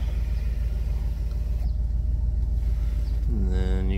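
A car's power moonroof opens at the push of a button over the low idle rumble of a V8, ending with a rising electric motor whir.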